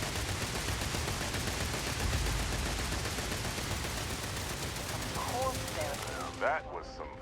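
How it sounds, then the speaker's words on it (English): Dense, continuous gunfire rattles through a Starfield firefight, rapid automatic bursts blending into a loud, unbroken wash, with a voice briefly heard near the end. "Someone is still shooting."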